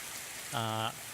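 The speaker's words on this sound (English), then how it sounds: "I hope the rain won't damage the carpet" Virtual rain in an augmented and virtual reality demo gives a soft, steady hiss throughout, briefly overlaid midway by a short, bright, buzzy harmonic tone.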